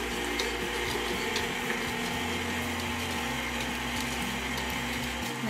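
An electric mixer blends chocolate and butter for a chocolate cake batter, giving a continuous, loud, steady whirring drone that runs the whole time with no talking.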